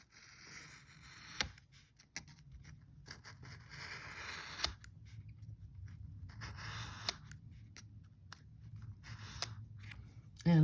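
An X-Acto knife slices through a stack of accordion-folded paper guided by a metal edge ruler, giving several quiet, sharp scraping cuts spread over a hushed background.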